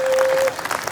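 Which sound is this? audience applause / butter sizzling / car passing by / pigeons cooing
audience applause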